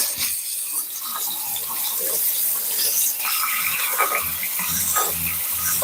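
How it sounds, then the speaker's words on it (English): Tap water runs steadily into a kitchen sink as pork ribs are rinsed under it, a continuous close hiss and splash with small shifts in the flow as the ribs are moved about. "Rinsing the ribs off."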